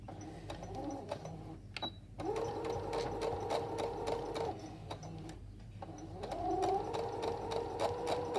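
A domestic sewing machine back stitching along a fabric yoke, its motor whirring in steady bursts with rhythmic needle clatter, pausing briefly between runs, close up with no talking.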